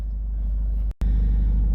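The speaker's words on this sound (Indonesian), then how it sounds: "Saya manasin mobil lagi." A car engine idles while warming up, a steady low rumble close by that drops out briefly near the end, then returns at the same level; the engine is turbocharged.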